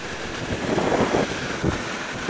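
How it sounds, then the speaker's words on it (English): Wind buffeting roars steadily around a rider on a naked Royal Enfield Intercept motorcycle with no windscreen, a broad rushing noise that swells in gusts with no voices. "I'm getting a serious amount of buffeting around my head, interestingly enough, and just at the top of my shoulders."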